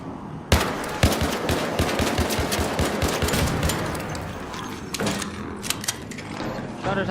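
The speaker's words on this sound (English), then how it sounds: "We should take out that turret." Rapid turret gunfire from a space-station shooter game rattles in dense bursts, loud and close, with a few heavier impacts breaking through and no clear talking over it.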